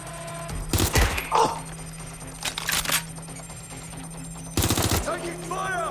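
Gunfire in the video game Watch Dogs Legion: three sharp bursts of rapid automatic shots ring out in short volleys over a steady game soundscape, with faint game voices in between.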